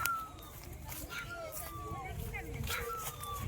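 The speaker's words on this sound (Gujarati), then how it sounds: "કૂતરી આવે છે શું કરવું એ વિચાર કરે છે." A female dog draws near outdoors, giving thin, wavering whimpers and whines with a yip or two, heard fairly close over a steady rumble of background noise.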